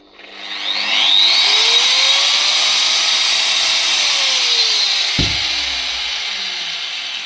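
A GTM AG125/1400VS angle grinder spins up smoothly over about a second, then runs at a steady high whine, with a brief thump and slight dip late on.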